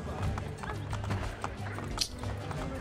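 Horses' hooves clip-clop steadily in Assassin's Creed: Brotherhood, a continuous run of soft thuds beneath game ambience, with a voice talking over part of it.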